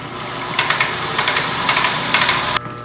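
A sewing machine stitches elastic into a frufru bikini, its motor whirring loudly and steadily with rhythmic mechanical clatter before stopping abruptly near the end.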